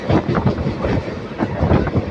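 The Bidar intercity express runs through rain with a close, continuous rumble and rhythmic clatter from the wheels on the track, with no voices.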